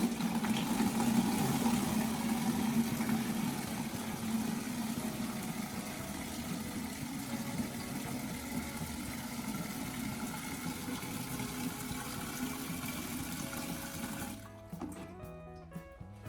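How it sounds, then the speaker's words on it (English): Water pours steadily into a large homemade watering can made from an old plastic can, a continuous close gushing and rushing that runs for most of the clip and then cuts off near the end. "I'm filling up our new large-capacity watering can."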